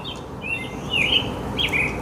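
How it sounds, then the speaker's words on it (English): Birds chirp outdoors in a few short, bright tweets over a steady low background hum, moderately faint and with no talking. "Look at the birds out here."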